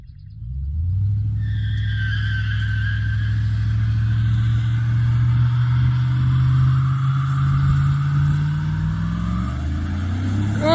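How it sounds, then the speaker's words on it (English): A Chevy OBS pickup with an LS-swapped 4.8 V8 that is already blown up, attempting a burnout: the engine rises from idle into a loud, sustained high-rev roar held for several seconds, close by. "Let's see if we can get a burnout going."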